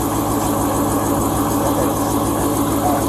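A car engine idles steadily throughout, a continuous low rumble with a dense, even drone close by and no pauses.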